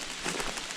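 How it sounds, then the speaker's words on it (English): Heavy rain pours onto a tent at a windy forest wild camp, a dense, steady patter close by and without voices. "it's pouring down with rain here"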